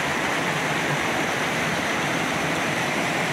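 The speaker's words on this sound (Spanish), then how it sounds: "Ahí se ve como unos chorreones con la piedra mojada por donde baja el agua escurriendo hasta" The waterfall of the Mundo river at Riópar, where water streams down wet rock, gives a loud, continuous close-up roar that stays steady throughout with no voices.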